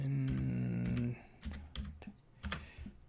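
A computer keyboard clatters in a few quick bursts of keystrokes, close and fairly quiet, following a short stretch of someone talking.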